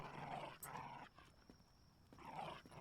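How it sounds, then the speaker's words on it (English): A dog tears apart a lampshade in the video game DYSMANTLE, with bursts of rough growling and shaking noise in two clusters separated by a quieter gap, fairly faint and without speech. "My dog is destroying that lampshade, man."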